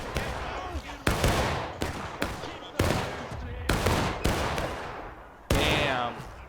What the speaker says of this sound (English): Everyone's just shooting right into each other.